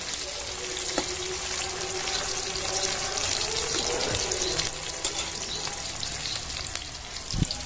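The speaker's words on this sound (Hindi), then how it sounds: "डाल दे प्याज, मात्र एक ठोक प्याज। थोड़ा सा चम्मच चला दिया जाए।" Onion frying in a pan with chillies, sizzling steadily with occasional stirring clinks from a spoon, close and moderately loud, no talking.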